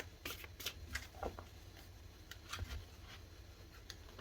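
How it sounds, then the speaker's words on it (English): Tarot cards are shuffled softly, with quick riffling bursts and flicks repeating in irregular bunches, close by and quiet. "One more shuffle"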